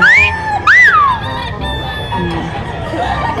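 A Lemon Sweater gamecock rooster, a bullstag, crows twice up close and loud, then clucks softly, with a busy crowd murmuring in the background at a rooster expo.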